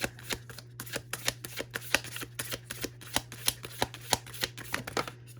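Tarot cards are shuffled and drawn by hand, a quick irregular run of crisp riffling snaps and slides, close and fairly quiet, with no talking.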